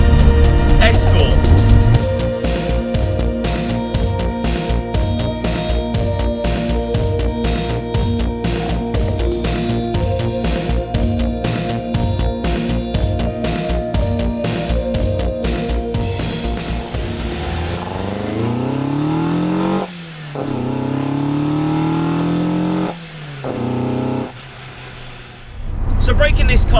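1980s Ford Escort RS1600i, a base model with an XR2 engine fed by R1 motorcycle carburettors, driven on B roads; loud sustained engine note with rising and falling revs and gear changes, heard from close by without talk.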